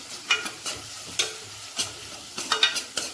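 Potato curry with a spoon of ginger garlic paste being stirred in a pan, repeated sharp spoon scrapes and clacks over a gentle sizzle, close and rhythmic.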